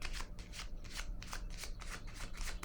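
Oracle cards being shuffled by hand, a quick regular riffling of about a dozen crisp flutters, close and fairly quiet with a low background hum.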